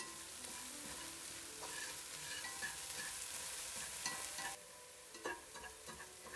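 Crushed white and black pepper and garlic sauté in a hot pan, a steady sizzle broken by brief stirring scrapes, with no talking.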